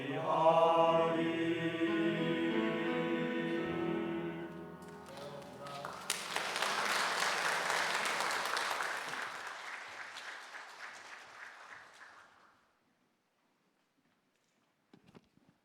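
A church congregation bursting into applause at a Friday late-night service, loud sustained clapping following singing and fading out after several seconds.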